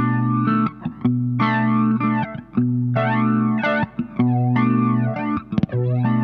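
An electric guitar plays through a PastFX Hot For Flanger pedal with the sweep sped up, so bright distorted chords and short phrases swirl with a fast jet-like whoosh. The guitar is close and loud, with brief gaps between phrases.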